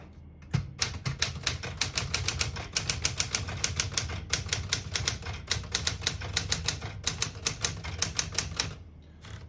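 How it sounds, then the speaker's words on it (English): Rapid keystrokes clatter on a 1972 Smith-Corona Super Sterling portable typewriter, close and crisp in uneven bursts for about eight seconds, with no talking. "Very nice typing machine"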